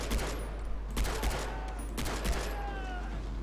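Gunfire in the video game Far Cry 3 rattles in dense, continuous bursts of rapid shots with booming low thumps, loud and sustained throughout.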